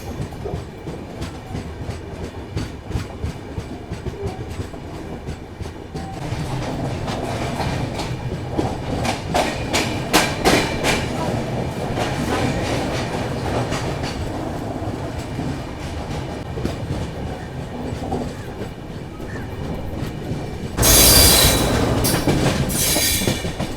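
The New Jalpaiguri–Udaipur City Weekly Express pulls out of a station platform, wheels clattering loudly and steadily over rail joints with rising clickety-clack and a sharp metallic squeal near the end, heard from on board.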